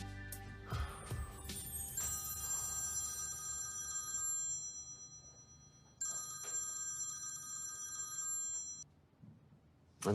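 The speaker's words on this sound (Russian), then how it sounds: "Алло, Видат?" A telephone rings with a bright electronic trill, two long ringing bursts separated by a short gap, fairly faint against quiet room tone, with no speech.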